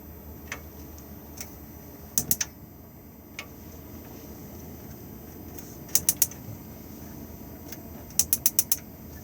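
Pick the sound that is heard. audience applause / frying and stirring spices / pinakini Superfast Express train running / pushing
pushing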